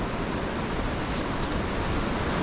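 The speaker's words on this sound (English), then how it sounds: "Still pretty windy above us." Steady wind rushing through the mountains of Tasmania, a continuous broadband roar that holds constant throughout with no voices.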